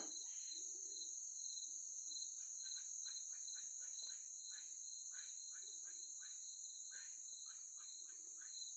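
Crickets chirp continuously in a high, steady drone, with faint scattered clicks and rustles beneath, distant and quiet, outdoors at night in woods at Gunner Pool, Arkansas.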